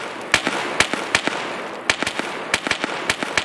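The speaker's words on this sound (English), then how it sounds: "I'm gonna run on the cover of the gunfire." Sharp, irregular cracks of gunfire in the video game Escape from Tarkov, a dozen or so quick reports in uneven bursts over steady background hum, no talking.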